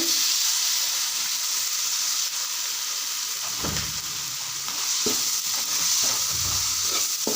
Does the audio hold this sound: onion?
yes